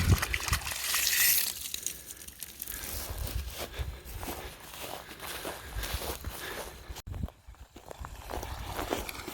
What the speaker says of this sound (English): Got water coming out.